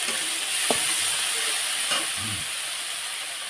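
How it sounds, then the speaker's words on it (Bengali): Fish masala with turmeric and chili powder stir-fried in oil for a snakehead fish curry, giving a steady close hiss and sizzle with a few brief scrapes of a spatula against the pan. "হলুদ পরিমাণ মতো লঙ্কা গুঁড়ো হাফ চামচ সব কিছু ভালো করে কষতে নেব"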